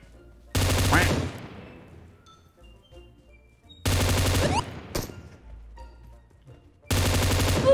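Gunfire in the PUBG Mobile battle royale: three loud, sharp bursts of rapid shots, each lasting about a second, separated by quieter stretches of game ambience.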